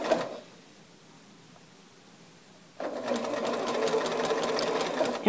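A sewing machine stitches fabric along a curved seam for a quilt block, starting abruptly after a quiet pause and running steadily and fairly close with a fast, even mechanical whir.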